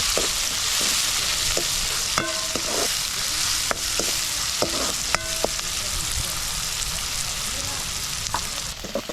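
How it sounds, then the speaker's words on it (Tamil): Onions, green chilies and curry leaves sauté in a pan for a village-style prawn curry, giving a steady dense sizzle broken by scattered clinks and scrapes of stirring, with no talk. "இதே வெங்காயம், பச்சை மிளகாய் எல்லாம் வதங்கட்டுக்கு."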